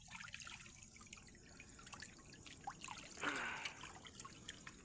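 A slow stream of water trickles and drips into a shallow milkfish pond. The sound is faint, close and irregular, with small gurgles and a brief splashy swell near the end, and no one speaks.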